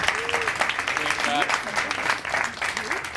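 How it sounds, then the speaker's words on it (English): An audience at a 24-hour plays theater event applauds steadily, with a few voices and cheers rising over the clapping. "I want to give a round of applause to them"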